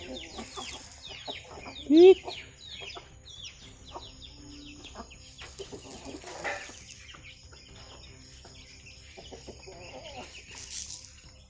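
Backyard chickens kept at a rural home cluck in short, scattered calls at moderate distance, with one louder squawk early on and soft background noise throughout.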